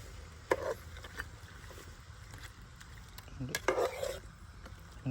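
Mutton frying in an open pan (not a pressure cooker) while being stirred, with soft sizzling and a few clattering scrapes of the spoon against the metal, under a quiet room background.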